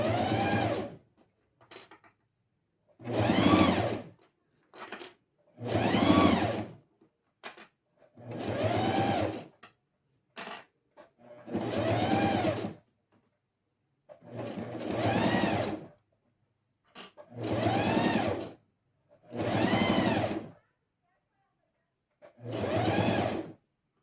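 Sewing machine stitching a fabric box pouch: about ten loud, close bursts of rapid mechanical whirring, each a second or two long, separated by short pauses and quiet gaps with small handling clicks.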